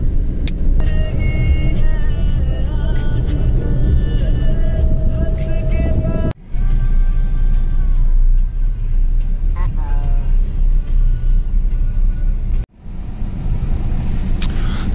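A CNG car runs on a long Uber ride toward Noida, giving a loud, steady engine and road rumble from inside the cabin, with a voice heard over it.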